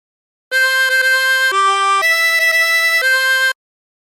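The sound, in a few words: harmonica playing phrase of Oh My Darling Clementine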